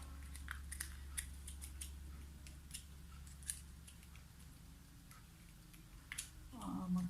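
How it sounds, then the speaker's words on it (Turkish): Scissors snip fabric while an undershirt is being sewn at home, a series of faint, sharp, scattered clicks over a low steady hum, ending with a louder rustle. "Makas takılıyor."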